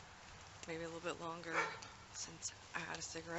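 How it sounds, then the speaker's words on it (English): A neighbour's dog barks in a yard next door, a few sharp yaps in quick bursts at moderate distance while someone talks over them close by. "Sorry about the dog next door barking."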